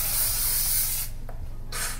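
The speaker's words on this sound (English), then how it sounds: "I just spray each section before I bring down the next lot." Bursts of hairspray are sprayed onto a freshly curled section of hair, a loud, close aerosol hiss lasting about a second, a short gap, then a second spray.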